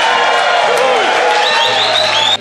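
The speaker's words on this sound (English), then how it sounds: "So can we all give these guys a round of applause?" Wedding guests at a reception break into applause and cheering, a dense steady wash of clapping mixed with crowd voices, fairly loud and close throughout.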